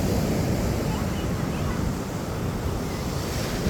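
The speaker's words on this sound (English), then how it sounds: "the high tide's coming in pretty high right now" Ocean surf rolls onto a beach at high tide on a windy day, a loud, constant wash of broadband noise with heavy wind buffeting on the microphone.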